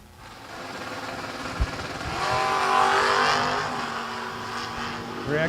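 Drag racing cars launch down the strip at a season kickoff event, a rising engine roar building and swelling past before easing off, with a sharp transient early on and crowd or announcer sounds mixed underneath.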